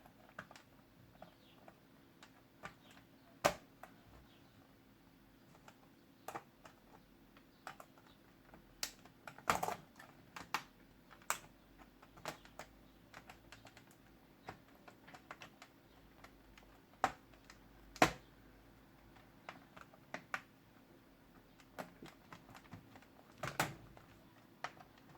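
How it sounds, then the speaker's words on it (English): Keyboard being pried and removed from a Medion laptop: scattered sharp plastic clicks and ticks, irregularly spaced over a quiet background, close and fairly faint, with no talking. "So let's remove the keyboard."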